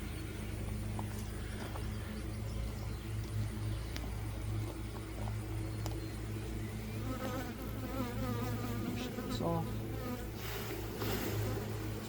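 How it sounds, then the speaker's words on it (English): Honey bees drone steadily in a continuous close buzz during an apiary hive inspection, with individual bees flying past and a few faint clicks and knocks from handling hive frames. "You see I have some bees here"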